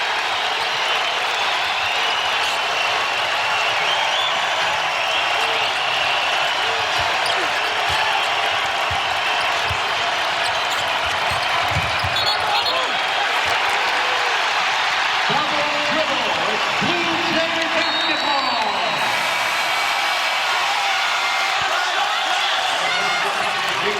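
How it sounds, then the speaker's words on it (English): Crowd at a Creighton men's college basketball home game against Xavier, a steady loud roar of cheering filling the arena, with a commentator talking over it and ball bounces and squeaks faintly beneath. "Here comes the crowd."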